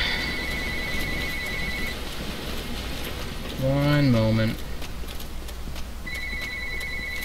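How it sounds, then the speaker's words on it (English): A telephone rings with a steady repeating electronic tone at the start and again near the end, with game background sound under it and a brief spoken phrase in the middle. "Of course the phone would go off now."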